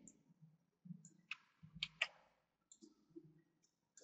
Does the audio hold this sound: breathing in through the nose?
no